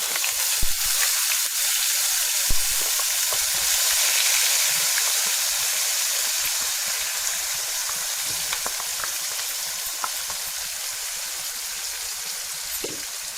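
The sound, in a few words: onion and masala frying in hot oil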